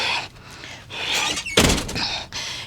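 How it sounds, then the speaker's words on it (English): A house door is pushed shut with a single dull thud partway through, set against a steady background hiss. "Let me shut the door so no wasps and flies get in my house."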